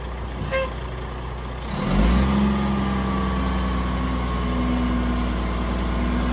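A 1995 Kenworth T800 tri-axle dump truck runs steadily with a loud, deep engine drone, which swells after a short hiss as the hoist starts raising and then holds a sustained hydraulic whine over the idle.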